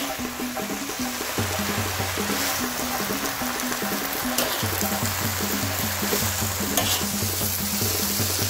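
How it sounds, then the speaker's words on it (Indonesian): Stir-fried water spinach (kangkung) is tossed in a hot pan under a steady close sizzle, with scraping and clattering from the stirring and a faint tonal hum in the background. "diaduk sampai merata, sampai matang tuh guys"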